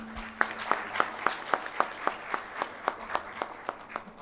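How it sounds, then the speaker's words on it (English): Conference audience at an Egypt Vision 2030 digital transformation panel clapping in a slow, sparse, even rhythm, individual claps distinct and fairly faint, as if few hands or a distant crowd. "We should applaud them"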